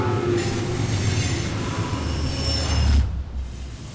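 Train wheels squeal loudly as railroad cars roll through a train yard in the video game Alpha Protocol, a continuous metallic screech over heavy rumbling that cuts off near the end.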